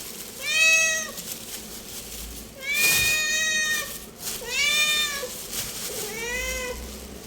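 A cat meows repeatedly indoors, in an apartment unit: four clear, drawn-out cries spaced across the stretch, fairly close and loud, with no one talking over them.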